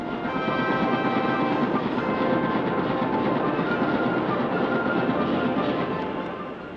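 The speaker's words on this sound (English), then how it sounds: "This tape recorder works on 7 tracks at the same time. The cards are copied at the rate of 4 per second." A punched-card machine copies cards to a seven-track tape recorder at four cards per second, giving a loud, continuous, dense mechanical clatter that runs steadily throughout with no voices.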